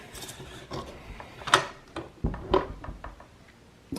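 Cranking the top of a Kenner Ewok Village toy playset produces faint mechanical clicks and ratcheting plastic knocks, with a few louder clacks spaced irregularly over a few seconds.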